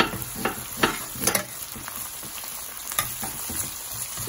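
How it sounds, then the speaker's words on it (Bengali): Whole spices (cardamom, cinnamon pieces and bay leaf) sauté in hot oil for a beef curry, with a soft continuous sizzle and intermittent scraping clicks of stirring. "মশলাটাকে কষিয়ে নিচ্ছি"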